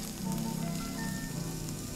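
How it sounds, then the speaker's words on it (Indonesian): Garlic being sautéed in oil in a pan, giving a steady, close sizzle that holds even throughout, with no talking. "Ini tumis sampai dia wangi aja, jangan sampai berwarna ya."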